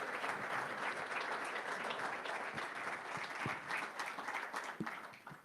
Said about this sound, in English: I just want to give you a big round of applause for hosting everyone here in Ottawa today